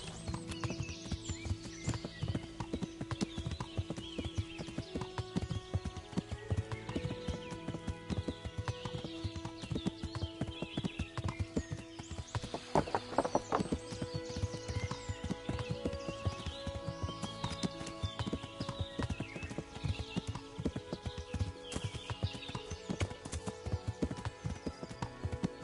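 In Kingdom Come: Deliverance, a ridden horse's hooves keep up a steady, close clip-clop rhythm throughout, layered over music, with a short whinny and a burst of busier noise partway through.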